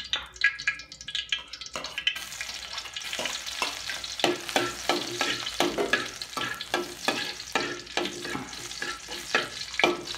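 Garlic dropped into hot oil, a sudden loud crackling sizzle that begins after a couple of seconds of clinks and continues with dense popping and spatula scrapes, close up, no voices.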